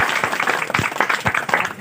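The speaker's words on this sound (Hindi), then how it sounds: "आप सभी एक बार उनको आशीर्वाद तालियों के रूप में दे सकते" Audience at a monthly meeting of a Haryana disability rights committee in Bhiwani clapping as a blessing, a loud, close patter of hands with distinct sharp claps standing out in a loose rhythm over the brief stretch.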